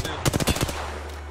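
A rapid burst of automatic gunfire in Apex Legends, about five or six sharp close shots in quick succession, followed by a low steady hum.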